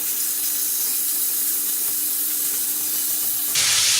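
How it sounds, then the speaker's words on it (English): Steady, loud sizzling hiss of marinated beef frying in a hot pan, continuous throughout with a brief surge near the end. "that's got to hit the pan sizzling"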